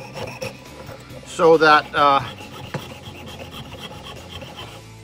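A hand file rasps against a cast gold vest pin to trim off the casting sprues, giving a few short, loud scraping strokes in quick succession amid quieter handling, with a brief spoken remark.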